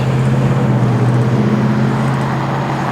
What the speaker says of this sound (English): I apologize in advance for any of the traffic noise here. I'm next to a roadway.